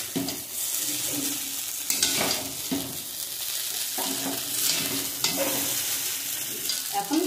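Boiled chow mein is tossed and mixed with vegetables in a hot pan, a loud continuous sizzle broken by sharp scraping and clattering stirring strokes.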